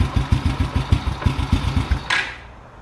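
A motorcycle engine idles with a lumpy, uneven chug as the carburetor mixture screw is turned in, running rough and choking before a brief hiss near the end.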